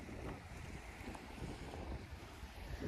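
Wind along the rocky coast at Bar Harbor in Acadia National Park the morning after Hurricane Lee, a steady low rumbling buffeting against the microphone, with a faint wash like surf underneath.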